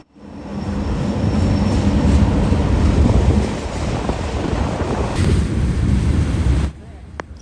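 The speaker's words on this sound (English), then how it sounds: "Led by an SD70 ACE and a -944CW, the train sneakily glides in." Freight train led by an SD70ACE locomotive rolling past, a steady rumbling clatter of wagons under wind buffeting the microphone, fading to near silence at the end.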